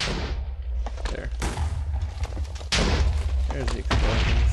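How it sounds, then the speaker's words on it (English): Minecraft explosions go off in a rapid series of booming thumps, loud and near, layered over game noise during a terraforming session. "There's the explosions."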